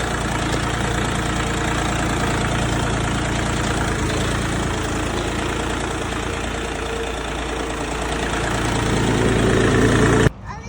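A steady tractor engine drones on continuously, growing slightly louder toward the end before cutting off abruptly. No talking.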